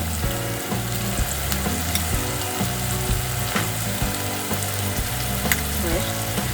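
Vegetables and a whole tomato fry in a hot pan for a Bengali bora curry, a steady dense sizzle with soft bubbling and occasional utensil scrapes, close and continuous with no talking.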